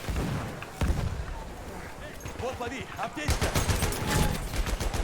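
Rifle and automatic gunfire rattles in Battlefield 1 during a battle at Brusilov Keep, with scattered shots early and a burst of rapid bursts later, mixed under someone speaking.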